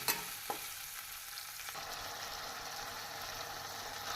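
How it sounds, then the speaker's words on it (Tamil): Potatoes fry in a pan with onion and curry leaves, giving a steady, close hiss of sizzling oil. A couple of brief scraping knocks mark the stirring near the start. There is no talking. "உருளைக்கிழங்கு போட்டு நன்றாக கிளறி விட்டு"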